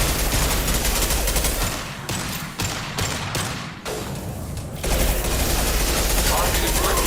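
Dense, sustained bursts of weapon fire from a Mass Effect 2 mod game, loud and continuous with brief dips before picking back up, mixed with battle noise and voices.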